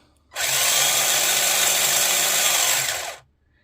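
A tiny stock silver-can brushed motor in a vintage Tamiya Fox RC buggy, running in reverse, spins up into a bright, buzzing whine, holds steady for nearly three seconds nearby, then cuts off abruptly.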